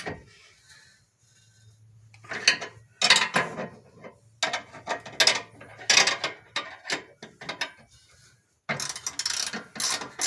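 Ratchet clicks and clanks in uneven bursts as bolts come off a 2002 Jeep Grand Cherokee during a rear armor bumper install, close up with short pauses between turns.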